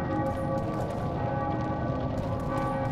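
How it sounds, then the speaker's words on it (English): Church bells peal in The Witcher 2, a thick continuous ringing layered with low rumble, steady and fairly loud throughout with no pauses or voices. "Bells are ringing."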